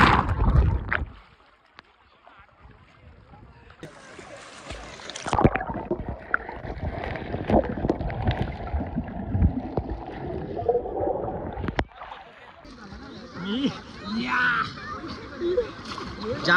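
People jump together into deep dam water, with broadband splashes and sloshing around the middle and a burst near the end, while excited voices shout and chatter close by throughout.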